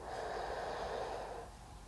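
A person inhales slowly and steadily while performing a Yang-style 24-form tai chi movement, a soft breathy airflow close to the microphone that fades slightly toward the end.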